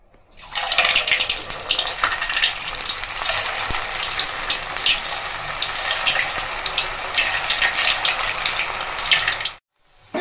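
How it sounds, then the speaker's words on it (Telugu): Potato rolls deep frying in hot oil, a loud steady crackling sizzle with dense bubbling that runs unbroken for most of the stretch, close up and alone before stopping abruptly near the end. "ఇప్పుడు వీటిని డీప్ ఫ్రై చేసేసుకొని చూపిస్తాము"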